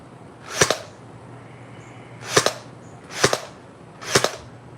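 Toy cap gun shots pop close by, four sharp snapping reports with long gaps between them, each carrying a quick double crack, over quiet indoor room tone.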